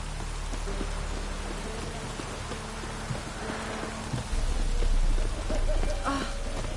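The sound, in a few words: rain falling in the video game Witcher 3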